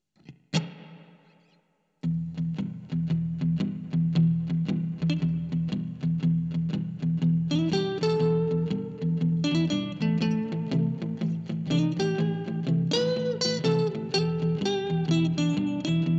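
Electric guitar fitted with GHS strings and played through distortion: a single plucked note, a short pause, then a steady driving chugged riff with melodic lead lines on top, close and sustained with no talk.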